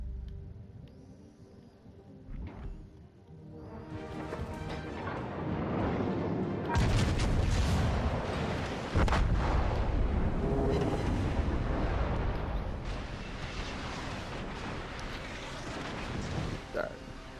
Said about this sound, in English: Those are secondary guns I hate.